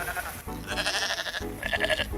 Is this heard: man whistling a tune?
no